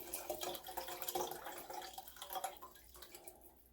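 Mushroom stock for hot and sour soup poured through a strainer, a steady close trickle and splash of liquid with scattered drips that thins out toward the end.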